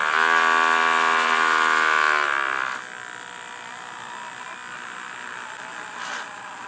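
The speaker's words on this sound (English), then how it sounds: "So as you can see, each motor spins independently you could vary them, vary the speed." Small DC motors spinning mirrors in a 5-volt laser light show build give a close, high whirring buzz that cuts off abruptly partway through, leaving a faint hum.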